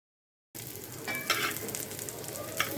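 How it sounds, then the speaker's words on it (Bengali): Chicken, garlic, onion and chillies frying in oil in a wok, a soft steady sizzle with a few scraping stirs, close and fairly quiet after a brief silent start. "এখন আমি এগুলা একটু ভেজে নেব।"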